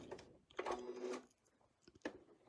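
A sewing machine takes a few stitches to pick up the bobbin thread during ruler-guided curved quilting, giving short, quiet mechanical whirs and clicks separated by pauses.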